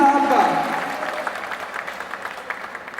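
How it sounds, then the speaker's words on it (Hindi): Audience applause welcomes Shankar Sahni to the stage at a Mr & Miss Hindustan pageant event, fading from a fuller burst into scattered claps within a few seconds. "जोरदार तालियों के साथ स्वागत कीजिए दोस्तों शंकर साहनी साहब का।"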